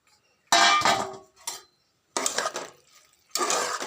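Fried okra tipped into a pot of boiled potatoes for a spicy bhindi aloo sabzi, three separate bursts of clattering and scraping against the pot with silence between them.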